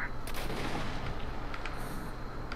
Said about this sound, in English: She better not be shooting me.